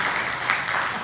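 Congregation at a Korean church giving a round of applause during a Sunday morning service, a brief even wash of many hands clapping at moderate level, with no voices.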